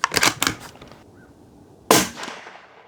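A Ruger American Gen2 rifle fires 7.62x39 Norma ammunition with one sharp, loud report that decays quickly. It is preceded by a quick series of nearby mechanical clicks and clatter.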